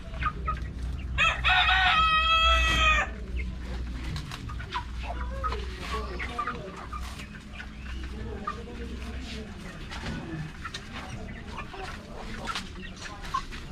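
Chickens in a new feeding pen and coop cluck and crow, with a loud rooster-like burst early on and softer clucking continuing underneath, while people talk nearby.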